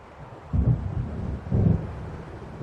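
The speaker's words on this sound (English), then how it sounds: "It seems there's a storm coming." Deep rolling thunder of an approaching storm in Alan Wake Remastered, two low rumbles swelling amid steady wind noise, moderately loud with no voices.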